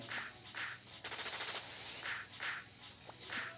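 Rapid sniper fire in an online RPG, a Ragnarok-style game: a steady run of sharp repeated shots about every half second, with a quick burst of faster hits in the middle, loud and alone with no talking.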